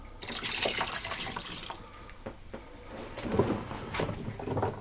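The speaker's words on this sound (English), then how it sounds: "And pour the wine in as well." White wine poured into chicken stock with star anise while making a beef steak pithivier: a steady, splashy liquid pour running about five seconds at close range, with no talking.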